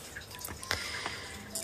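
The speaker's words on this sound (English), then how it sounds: "I like the trickling noise." An aquarium filter trickles water that sounds louder at a lowered water level, giving a soft continuous splashing with a few brighter drips, close and steady with no talk.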